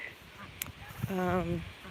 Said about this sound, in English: We got turkeys. There's a couple of the white ones.